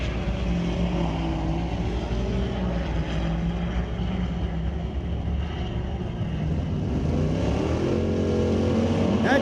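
A 2026 Ford F-250 diesel pickup drag racing against a 2005 GMC at Mission Raceway Park gives a steady, loud engine roar that drones unbroken for the whole stretch, slightly distant and with no voices over it.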